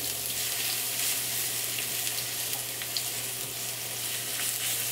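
Garlic sautéing in a hot pan gives a steady, close frying sizzle with a low hum beneath it, continuous and even throughout, with no talking.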